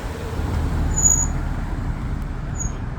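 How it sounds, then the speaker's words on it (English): Cars passing close behind on a narrow street near the Mount of Olives, a steady low road rumble with a faint hiss, continuous and moderately loud, with no talking. "behind me there's a car, I can hear it. Yes, there's a car, two cars."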